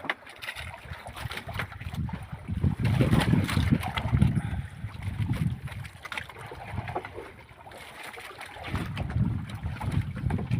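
A strong northeast monsoon wind buffets the microphone in loud, low rumbling gusts that rise and fall over the seconds, with a faint rushing noise beneath and no clear voices.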